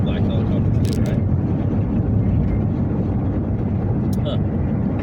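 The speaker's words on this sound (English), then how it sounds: "Is that a military helicopter?" A black helicopter passes overhead near Bullhead City, a steady, loud broadband roar of rotor and engine that holds evenly from start to finish without fading.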